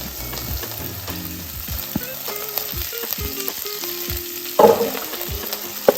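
Onions, green chilies, cumin and curry leaves frying in hot oil, a steady crackling sizzle with a burst of louder spitting near the end, no voices heard.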